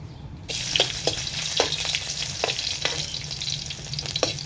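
Garlic sizzles steadily in hot oil in a pan just used to fry eggs, while a spatula stirs with light, repeated taps and scrapes. The sizzle is loud and close, and nobody speaks.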